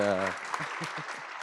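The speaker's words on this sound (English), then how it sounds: "please give a round of applause to our panelists who have been fantastic" An audience at a sustainable development forum roundtable applauds its panelists; after a brief spoken line, a few soft, scattered claps sound over a hissing room background.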